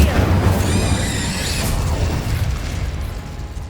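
A fire spell bursts out in the Hogwarts Legacy video game, a loud explosive whoosh and crackle that rumbles on for a few seconds with no talk over it.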